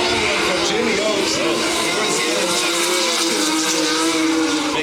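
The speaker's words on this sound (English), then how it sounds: "Jimmy Oaks putting on a big burnout" A drift car at an LZ World Tour event in Australia does a big burnout, a sustained, loud engine roar and wavering tire screech with voices mixed in.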